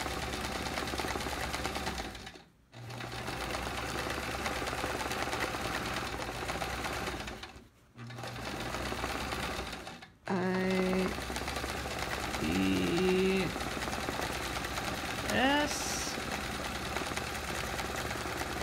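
A home sewing machine runs in long steady bursts during free-motion quilting of a Charming Chevrons quilt, stopping briefly between runs. A voice talks in short bits over the later stitching.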